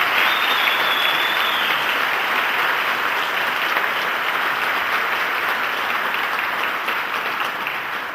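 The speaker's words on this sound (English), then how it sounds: "I'd just like to give them one more round of applause for all that they've given us this year" An audience at a youth concert band's spring concert applauds the young musicians, a dense, steady wash of clapping sustained at full strength throughout.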